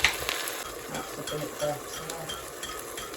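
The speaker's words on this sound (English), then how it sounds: "That's searing the meat, lovely look." Meat searing in a Cosori rice cooker for a stew, giving a steady low sizzle with stirring scrapes, fairly quiet and close, while a voice briefly speaks over it.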